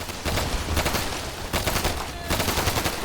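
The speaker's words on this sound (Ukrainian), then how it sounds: "Ну чомусь тут звук зброї." Automatic gunfire in the video game Easy Red 2, loud rapid bursts of shots packed densely together with brief breaks between volleys.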